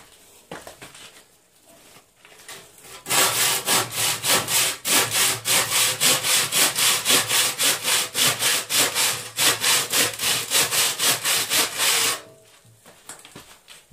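A dull handsaw rasps through a lightweight concrete block in steady, rapid back-and-forth strokes, close and loud, running for about nine seconds before stopping, with quieter handling noise on either side.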